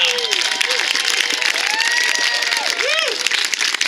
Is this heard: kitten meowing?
no